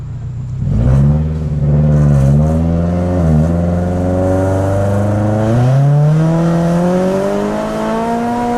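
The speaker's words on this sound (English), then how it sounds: "With it not having that much power, it accelerates hard." A boosted Scion FR-S accelerates hard, the engine note climbing steeply and loud from close inside the car, dipping briefly at gear changes before rising again.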